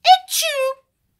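A girl's short sneeze, a quick breathy catch followed by a vocal burst, close and alone.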